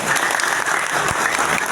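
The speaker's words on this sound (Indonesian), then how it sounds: "Tepuk tangan untuk semua." An audience claps loudly and steadily in a dense, sustained burst of applause at an Indonesian traffic police safety and traffic-control training event.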